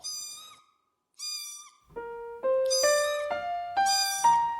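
Orphaned kittens fighting and meowing in a Korean royal-court period drama: two drawn-out, high cries with a pause between, then a denser run of overlapping tonal calls, close and fairly loud.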